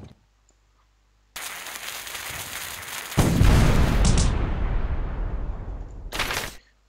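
A gun in the video game Kick the Buddy fires a sustained, loud burst of rapid gunfire that swells midway, then fades before a short final burst.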